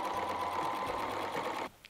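Sewing machine stitching along the edge of denim for a jeans cushion, a steady loud mechanical whir running continuously for most of the clip and then stopping abruptly near the end.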